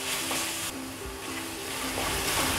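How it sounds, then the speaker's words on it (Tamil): Chopped tomatoes are stirred into onion, ginger and garlic frying in a pan for palak chicken, giving a continuous close sizzle with faint scraping from the stirring. "நல்லா தக்காளி mix பண்ணி விடலாங்க"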